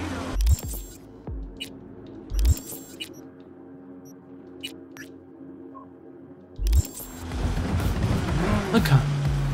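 Car driving in the Cyberpunk 2077 video game, a low steady engine drone with several sharp impact thumps and a rougher, louder stretch toward the end.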